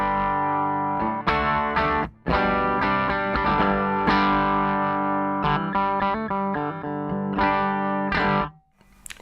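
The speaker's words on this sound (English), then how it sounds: "Bridge pickup on the Fidelity sounds like this." A Fidelity electric guitar's bridge P90 pickup played dry through an amp with no pedals, giving a honky, harmonically rich tone in strummed chords and sustained notes with brief pauses, loud and close.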